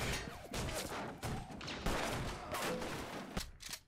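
Gunfire in a video game crackles in rapid bursts and volleys, loud and close, a rattling fusillade broken by short gaps and sharper single shots near the end.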